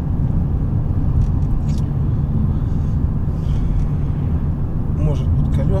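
Steady tire roar and low road rumble fill the cabin of a 20-year-old Lexus LS 430 as it drives along, with almost no engine sound, under continuous conversation.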